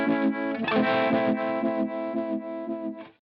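An electric guitar runs through a Shin-ei Uni-Vibe model on a Line 6 Helix, rate set to medium, sustained distorted chords pulsing with a steady wobbling throb, loud and alone, fading out at the end.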